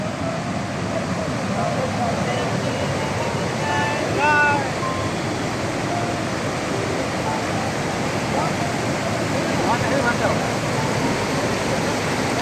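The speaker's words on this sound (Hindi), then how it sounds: "यह है लेदर नदी।" Steady, broadband rush of the Lidder River flowing near Pahalgam, loud and continuous throughout, with faint voices and brief tonal sounds buried in the roar.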